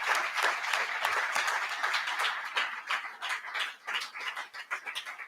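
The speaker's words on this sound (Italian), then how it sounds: "che noi ringraziamo anche con un applauso" Audience applause at an Italian history lecture in a library and museum, a steady round of many hands clapping at moderate distance, thinning slightly toward the end.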